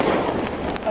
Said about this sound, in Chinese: 炮竹狂炸，满地鞭炮盒，炮回漫天飞，火光四射